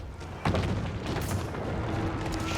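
Royal Artillery cannons in the strategy game Age of Empires 4 let out a heavy boom that rolls into a sustained, rumbling wash of blasts, loud and continuous after a quiet start.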